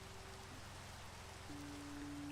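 Steady rain pours in a video game as night falls over a compound, a dense even hiss with a faint low tonal hum beneath, continuous and fairly close throughout.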